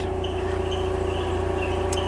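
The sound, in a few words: air compressor running in workshop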